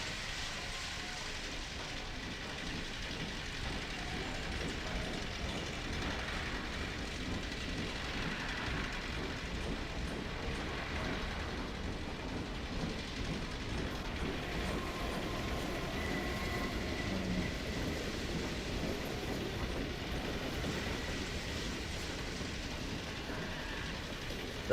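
A train in the video game Half-Life 2 rumbles past in a low, continuous rolling drone with faint rhythmic clatter, fairly quiet and steady throughout, with no talking.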